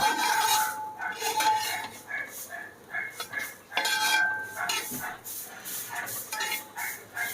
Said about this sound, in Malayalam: ശരിക്ക് ഇളക്കി നന്നായിട്ട് ഒന്നുകൂടി വറുത്തെടുക്കണമല്ലോ